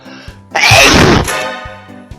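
A person gives one loud, close, explosive sneeze, with a faint tonal background before and after.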